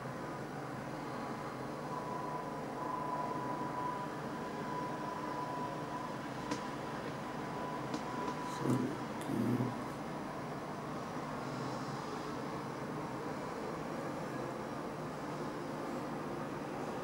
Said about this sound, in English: the train is about to move.